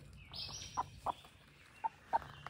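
A few soft, short clucks from chickens, four brief calls spaced irregularly over a quiet background.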